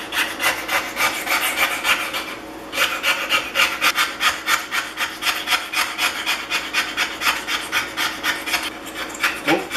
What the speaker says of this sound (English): the magic of this scraper is working